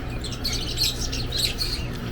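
Birds chirp and tweet in quick bursts over a steady low background hum, fairly close and moderately loud, with no one talking.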